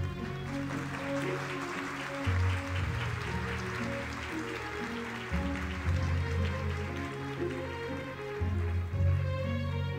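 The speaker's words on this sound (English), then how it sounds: "Let's give them a great applause." An audience at a peace summit applauds HWPL's chairman and IWPG's president, a broad rain-like patter of many hands carrying on steadily beneath loud, sustained music.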